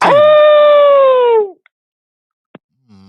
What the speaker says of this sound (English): A noticeable lack of baritone in that howl.